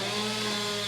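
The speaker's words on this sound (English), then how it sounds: "This chainsaw is way louder than my goddamn pressure washer," A neighbour's chainsaw runs steadily with a continuous buzzing, droning engine note, loud and unbroken, with no talk over it.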